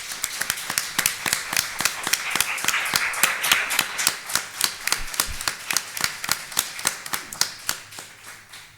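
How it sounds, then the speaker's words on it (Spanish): An audience at a conference on economic violence applauds the foundation, with steady, evenly spaced claps that sound like a smaller crowd, loud and sustained for several seconds before tapering slightly. "me gustaría pediros un aplauso, un fuerte aplauso a la Fundación por todo el excelente trabajo"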